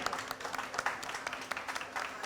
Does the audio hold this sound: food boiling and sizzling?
no